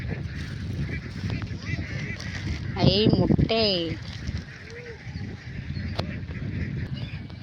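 Ducks quack close by in a brief burst of several loud, nasal calls, with people talking and outdoor noise before and after.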